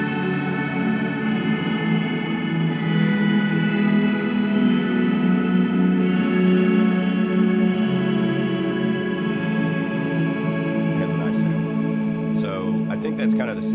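Guitar chords played through stacked reverbs on a Headrush effects unit swell into a thick, sustained ambient wash that holds steadily, with a few scratchy string sounds near the end.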